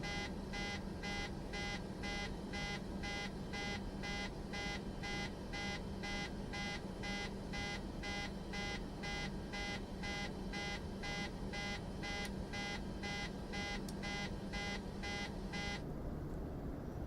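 A rapid electronic beep in a Boeing 737 in Microsoft Flight Simulator 2024 repeats steadily and evenly for a long stretch, then stops abruptly, leaving a faint background hum.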